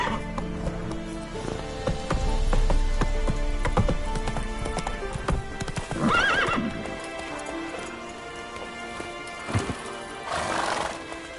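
A horse in The Witcher 3 gallops with rapid hoofbeats, then whinnies loudly twice, close and prominent against a faint rainy background.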